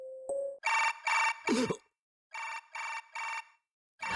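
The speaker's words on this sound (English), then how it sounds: "I almost leapt up at the sudden noise. The sound was from my new smartphone." Smartphone ringtone in the Chaos;Child video game: a short tone and blip, then bright electronic ringing bursts in two groups of three with a pause between, starting again at the end. Nobody speaks.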